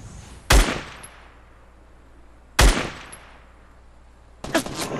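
Gunfire in the video game Fortnite: three sharp, loud single shots a couple of seconds apart, each with a short decaying tail, alone without talk.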